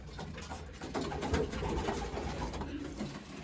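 Racing pigeons cooing softly in a loft where birds squabble over nest bowls, low faint coos buried in steady background noise.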